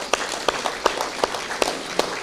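Steady applause from a small audience at a town meeting with an election candidate, with sharper individual claps standing out at a regular beat above the dense clapping wash.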